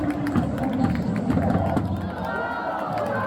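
A stadium crowd roars and cheers at a football match between South Korea and China, a dense, loud wash of many voices that swells steadily and then eases slightly.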